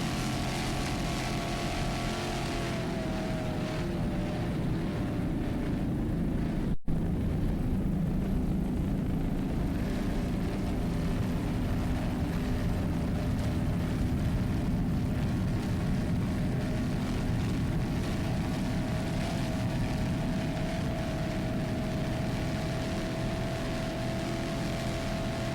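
Racing powerboats of the Super V light single class roar continuously at a distance, a broad steady engine drone across the whole stretch with one sharp click early on.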